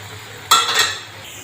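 Chakli dough dropped into hot cooking oil, giving a sudden loud sizzling burst that swells for about half a second and then settles into a faint hiss.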